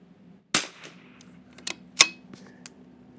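Rifle shots ring out at an outdoor shooting range during chronograph testing, several sharp cracks spread over about three seconds, some distant and faint, one louder and closer, over a low steady hum.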